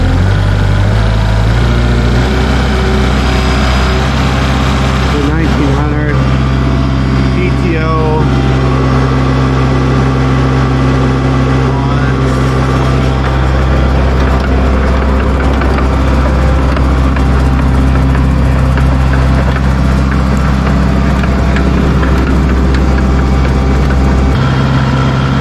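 An engine holds at about 2000 RPM on a small off-grid homestead during hay planting, a loud steady close drone lasting the whole stretch with only slight shifts in pitch.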